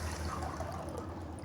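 Water pouring into a cup for heating in an electric cooker, a steady close trickle lasting the whole moment over a low hum, with no voices.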